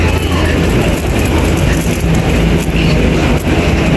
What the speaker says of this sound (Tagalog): super busy dito sa MTR station